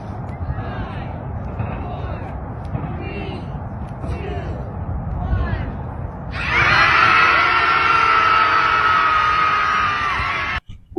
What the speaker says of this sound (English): triggered San Francisco liberal residents gathered to let out a primo scream as Trump took the oath.